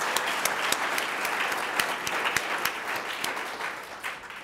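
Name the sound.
audience applause for the guest of honor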